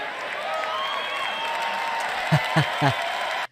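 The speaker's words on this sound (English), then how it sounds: "That's a big applause line for this group." A crowd at a political speech gives steady applause with scattered cheers and whoops, a broad wash of clapping that runs almost to the end, with a voice briefly rising over it.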